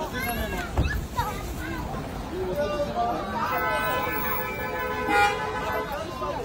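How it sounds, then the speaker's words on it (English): Street ambience in Guilin, China, with car horns tooting now and then amid traffic noise, people chatting nearby in the background. "Lots of honking out here."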